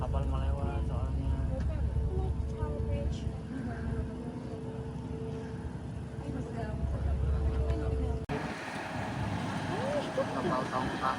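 Barge passing close by under an opened bridge in Amsterdam, its low engine rumble and water wash steady and loud, with wind buffeting and people talking over it.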